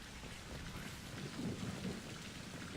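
Thunderstorm in Mass Effect 2: steady heavy rain with a low, rolling rumble of thunder swelling in the middle, continuous and fairly quiet, with no voices.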